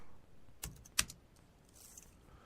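Two or three sharp, close keystrokes tapped on a computer keyboard, then a quiet, near-silent room.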